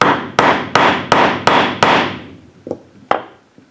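Six evenly spaced hammer strikes drive a lathe spur center into the end of a wood block, each sharp bang ringing briefly, followed by two lighter taps; close and loud, with no talk.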